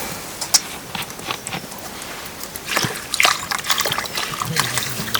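Rain at the start of the monsoon season sets off irregular nearby splashes, drips and trickles of water, with voices faintly mixed in.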